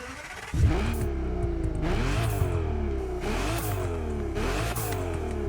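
A car engine in the video game The Crew Motorfest revs up and down in repeated surges, rising in pitch with each acceleration, loud and close with no voices.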